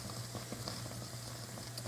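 Water boiling in a pot with silver spoons inside, a faint continuous bubbling and light patter, heard alone.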